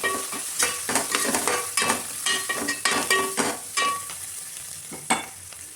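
Masala with mint, turmeric and ginger-garlic paste sizzles in a pan for mutton curry while a spoon stirs it in repeated scraping strokes, close and steady with no talk.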